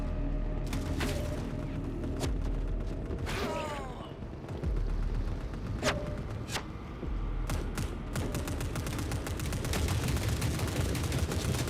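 Gunfire from an AK rifle in the video game Forever Winter 2, scattered sharp shots and short bursts over a continuous rumbling battlefield din, with a few mechanical clicks between.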